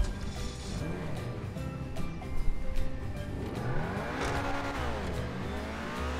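A newly unlocked car in the video game GTA Online pulls away on a test drive, its engine revving up and down through several rising and falling sweeps with a brief tire squeal, under game music.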